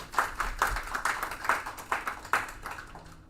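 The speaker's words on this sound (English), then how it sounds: "So let's give her a round of applause as well." Small audience clapping at a school district board meeting, a sparse, fairly quiet patter of individual claps with distinct beats, fading out near the end.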